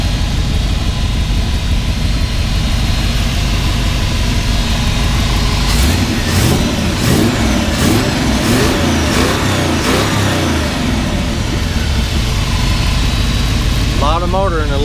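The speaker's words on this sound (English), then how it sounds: "It appears to be a 427. Beautiful engine." Ford Cobra replica's 427 V8 with a 650 dual-line double-pumper carburetor runs steadily throughout, a low continuous engine rumble with a brief stretch of rising revs in the middle.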